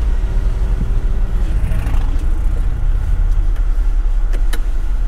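Loud, constant rush of road and wind noise from a car driving with the window open, engine rumble underneath, no talking.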